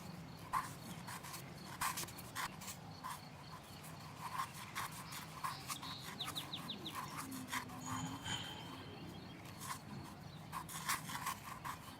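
A toothbrush scrubs at grime in the cozy restoration video game Cozy Game Restoration, a steady repeated scratchy rubbing with rhythmic strokes, faint and continuous with no talking.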